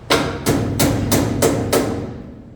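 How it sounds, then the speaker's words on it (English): Six sharp hammer taps on a metal 1955 Pontiac rear bumper land in a steady rhythm, close and ringing briefly after each strike. "we're going to take my trusty hammer here, tap this down"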